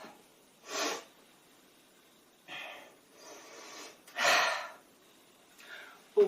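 Deep yoga breaths taken in through the nose and let out through the mouth, coming as several separate, fairly loud airy inhales and exhales with quiet pauses between them.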